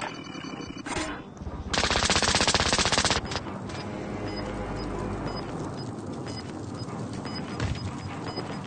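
Rapid automatic gunfire from the Warzone video game on the Rebirth Island map: a loud, dense burst of shots up close, then continuing game ambience with scattered sharper sounds.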